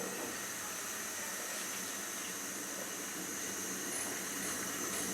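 A covered pot of spinach letka khichuri heats toward a boil, giving off a faint, steady hiss of steam that stays even throughout with no talking.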